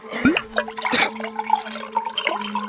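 Water poured from a container, a short close splash followed by a thin, steady trickle that fades over a few seconds, with no speech.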